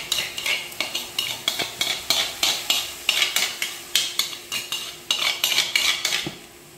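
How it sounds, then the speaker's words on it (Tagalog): Spicy Korean stir-fried squid (ojingeo-bokkeum) being stirred in a pan as sauce goes in, with a steady run of close utensil scrapes and clinks against the pan over a faint sizzle, no talking. "idadagdag na po natin ang ating sauce"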